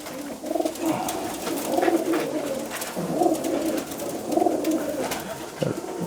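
Pigeons coo repeatedly at close range in a loft, soft throaty rolling calls recurring every second or so over a faint hiss of background noise.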